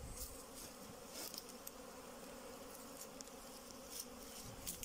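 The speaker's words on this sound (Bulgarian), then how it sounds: "Мога да ви покажа летежа на пчелите." Honeybees fly around a hive among flowering daisies, making a faint, continuous buzzing hum with occasional closer passes rising briefly above a soft outdoor background.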